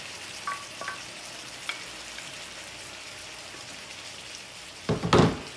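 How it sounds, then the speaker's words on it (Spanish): Green chile salsa poured onto browned pork bursts into a loud sizzle near the end, after a quieter stretch of faint frying crackle and a few light clinks. "Vamos a echarle toda la salsita,"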